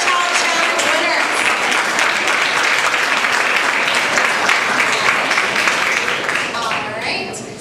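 A crowd at a middle school awards ceremony claps for the Bronze Award Fairchild Challenge winners: dense, sustained applause filling the room with faint voices mixed in, tapering off over the last second.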